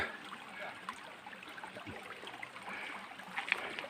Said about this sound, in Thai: เนี่ยเป็นน้ำไหลมาจากน้ำตกใสฮะ